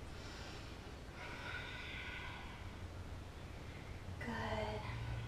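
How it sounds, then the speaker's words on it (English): Slow, deep breaths during a kids' yoga session, two soft breathy exhalations a few seconds apart, close and quiet with faint background hiss. "Just breathing here once more."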